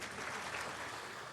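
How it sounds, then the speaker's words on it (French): Steady, dense applause from an audience filling a hall at a presidential inauguration ceremony, held at an even level without a break and with no voices standing out. "on a des applaudissements dans la salle"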